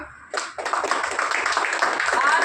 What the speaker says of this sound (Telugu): అందరికి ఒకసారి క్లాప్స్ కొట్టండి